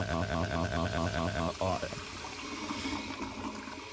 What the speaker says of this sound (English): Okay, now that you're on the toilet, let's flush.